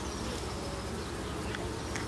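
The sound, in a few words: honeybees buzzing at an open hive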